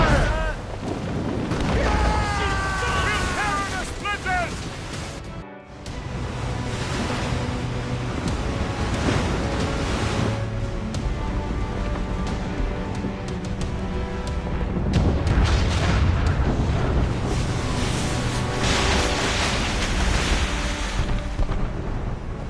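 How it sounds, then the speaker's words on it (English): Ship-mounted mortars in Assassin's Creed Rogue fire over a constant roar of surf and wind at sea, with heavy booms rising out of the wash and a brief cut to near silence midway; voices speak over the din. "Ready those mortars, Shay. Ready to fire!"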